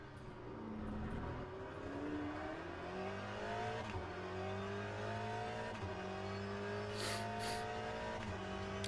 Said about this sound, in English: I think the cars sound really good in this game.